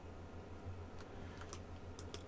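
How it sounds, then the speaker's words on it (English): Quick bursts of small plastic clicks from a computer mouse repeat at an uneven pace, faint and close against a quiet background hum. "I know clicking it multiple times doesn't help"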